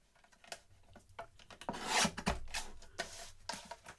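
Half an inch being trimmed off a piece of acetate with a file: close, uneven rasping strokes, loudest in a dense burst mid-way, with short scraping passes on either side.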